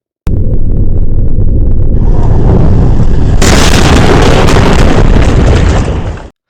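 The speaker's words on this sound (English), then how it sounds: "The sound was an intense rumbling noise, followed by an audible explosion." A loud, deep rumbling builds steadily and then erupts into a powerful, roaring explosion that fills the sound and holds for several seconds before stopping abruptly, with no voices present.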